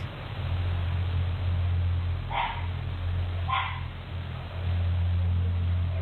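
Two short dog barks, a couple of seconds apart, sound faintly in the distance over a steady low hum and background hiss.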